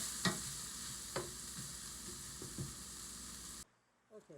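Osso bucco searing and caramelizing in an Instant Pot, a steady close sizzle broken by a few sharp clinks and stirring scrapes, cutting off abruptly near the end.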